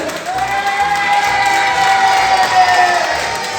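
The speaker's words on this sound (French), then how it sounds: "Applaudissez" An audience claps and cheers on cue, a loud, close mix of applause and excited shouting with a sustained whistle or tone running through it.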